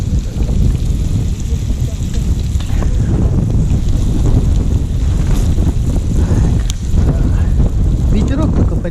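Wind blows steadily across a forest lake, a loud, continuous buffeting rush on the microphone with no real pause.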